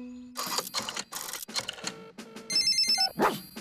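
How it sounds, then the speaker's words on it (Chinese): A telephone rings in a Peppa Pig cartoon, a series of close electronic ring bursts followed by a tinkling tonal ringtone pattern, with no talk. "这里是狗爷爷的维修服务电话"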